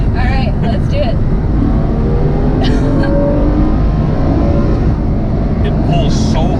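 Ferrari F12 Berlinetta engine pulling hard under acceleration, a loud steady roar with rising harmonic tones heard from inside the cabin, with people talking over it.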